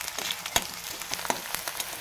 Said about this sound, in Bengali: ফোড়নটা দিয়েই সাথে সাথে পেঁয়াজটা দিয়ে দিতে হবে